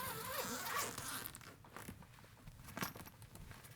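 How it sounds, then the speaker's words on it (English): Zipper running around a guitar case for an Epiphone Les Paul Custom, a close, quiet zipping pulled in several short raspy strokes with small pauses and handling noise between them. "It's got this all the way around zipper."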